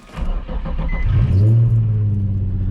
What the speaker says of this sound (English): I'm gonna start the car and I'll show you, it should squeak here.